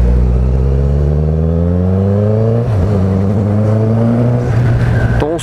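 Motorcycle fitted with a 4x2x1 Full CS exhaust with a large hidden muffler, revving steadily with a deep, low engine drone that rises in pitch and settles back, close and loud throughout.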